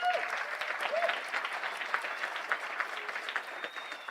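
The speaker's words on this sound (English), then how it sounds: "Give them a round of applause for everyone who's gone on that list." A high school graduation crowd claps for graduates bound for college, a broad sustained wash of many hands with a few brief voices and whistles at the start, continuing evenly throughout.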